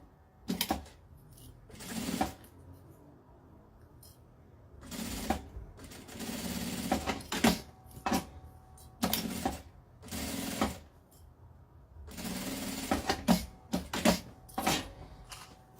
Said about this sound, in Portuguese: agora eu passo a costura na parte de baixo da tela e na lateral.